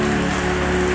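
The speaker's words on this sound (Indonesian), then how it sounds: "situasinya hujan," Steady rain falls just after midnight, a dense, even patter on hard surfaces that stays loud and constant without a break.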